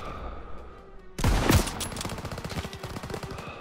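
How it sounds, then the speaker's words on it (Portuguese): Machine gun fire aimed at tanks in a 1944 Normandy battle scene near Caen: a loud opening blast, then a long, rapid, rhythmic stream of shots that keeps going at a steady clip. "PEC-38 tem um atirador! Tá atirando nos nossos tanques!"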